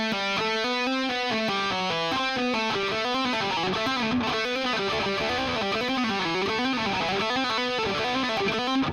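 Distorted electric guitar playing a fast legato run, smooth hammer-ons and pull-offs cascading down and back up in a continuous flowing line, moderately quiet and alone.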